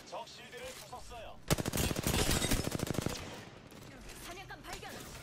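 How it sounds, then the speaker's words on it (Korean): Rapid bursts of automatic gunfire from enemy soldiers in a video game, a dense volley of sharp shots lasting about a second and a half, loud and close, between stretches of quieter game ambience and faint voices. "다른 군대가 우리를 쏘고 있어"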